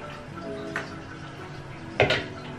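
Clean water is poured into a container while paint brushes are rinsed, with two short splashy swishes up close against a quiet background.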